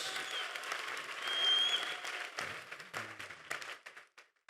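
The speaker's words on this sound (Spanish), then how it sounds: "Un aplauso por estos 4 amigos." Applause from an audience at a church sermon, a dense wash of clapping that swells, then thins and fades out within a few seconds.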